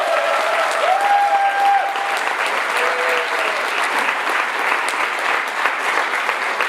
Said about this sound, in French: Un tonnerre d'applaudissements pour Marcélia